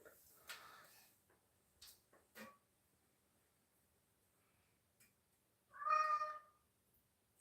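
A cat lets out a clear meow close by, after some faint clicks and small household noises in an otherwise quiet room.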